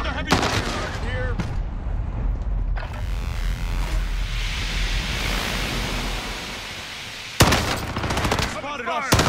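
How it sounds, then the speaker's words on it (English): Rapid video game gunfire, bursts of automatic shots and explosions, fills the scene as heavy combat rages, with voices speaking over the loud, continuous battle noise. "Under heavy fire here."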